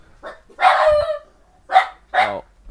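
Dogs barking loudly and close by in short bursts, four or five sharp barks separated by brief pauses, with no voices.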